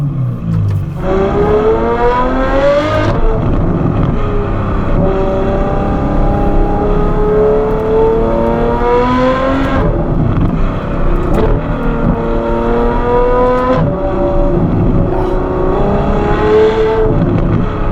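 A Novitec Ferrari F12 N-Largo supercar engine in Dubai revs hard, over and over, with loud, rising howls broken by short drops back to a rough idle, close and with no talk over it.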